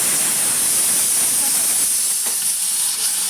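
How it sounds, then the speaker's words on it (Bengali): Pressure cooker on a home kitchen stove letting off its whistle as a loud, continuous hiss of escaping steam, steady and close throughout with no pause. "আর প্রেসার কুকারে সিটি পড়েছে"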